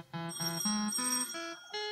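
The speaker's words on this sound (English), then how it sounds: "I better go and answer the telephone." A bright, ringing electronic telephone tone repeats in quick bursts that step up in pitch, loud and close by, with no voices.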